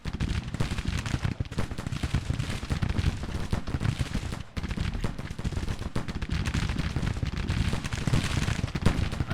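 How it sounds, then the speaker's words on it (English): Dense massed musket volleys from troops in the video game Grand Tactician, a continuous crackling barrage of gunfire that stays loud and steady throughout with no talking. "Alright, they start firing."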